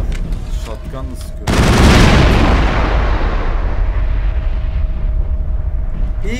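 A shotgun fired at close range in the sci-fi video game Mass Effect: one loud, sudden blast followed by a long rumbling roar that slowly fades, preceded by quieter game ambience.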